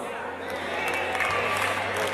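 Audience applause and light cheering at a motivational speech on faith, a steady wash of clapping throughout with the speaker's voice talking over it.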